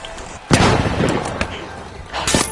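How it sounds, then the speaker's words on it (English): A flashbang grenade goes off in a team video game with a sharp, loud burst, followed by a long rumbling tail and a couple of further booms and crackles amid busy game sounds. "Throwing a flashbang."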